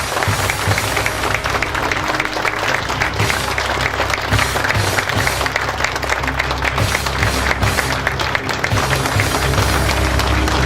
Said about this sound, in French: Je vous demande donc d'accueillir et de faire un tonnerre d'applaudissements à un de nos plus grands champions de judo, Angelo Parisi.